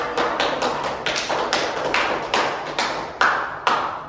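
A class of schoolchildren claps hands after a peer-teaching presentation, a steady patter of many hands with a few louder claps standing out near the end, close and continuous with no talk.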